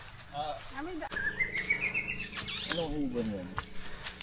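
A bird calls with rising chirps and whistled notes in a forest on an early-morning hike, fairly close and clear, while people talk nearby.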